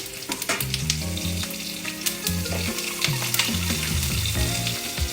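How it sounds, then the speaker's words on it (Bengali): Nigella seeds sizzling in hot oil in a frying pan, crackling steadily while a spatula stirs and scrapes against the metal, close up with brief knocks and rattles between the strokes. "আর দেবো কালো জিরে। দিয়ে হালকা নাড়াচাড়া করে"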